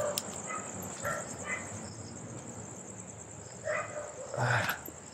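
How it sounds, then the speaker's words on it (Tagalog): A dog barks a few times at night, short sharp yaps spaced out over several seconds, set against a steady chorus of crickets and insects. "Uy, may aso."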